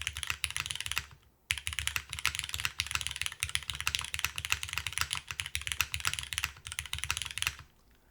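Continuous typing on a Cloudline v2 custom mechanical keyboard, close and clear, with a rapid, uneven patter of keystrokes and a brief pause near the start.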